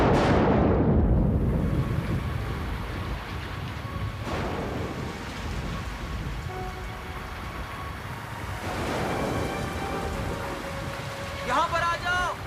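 Steady rain pours outdoors in a horror drama, a broad continuous hiss with a rumble like distant thunder near the start, sounding close and fairly loud with no clear voices.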